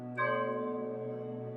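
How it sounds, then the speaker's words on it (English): A single deep church bell strike rings out and hangs in a long, slowly fading hum, heard alone. "The bell continued to swing, strike, and vibrate with the same doleful regularity"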